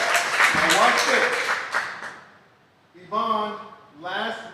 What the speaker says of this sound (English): can we give Michelle a round of applause for getting binary qualified?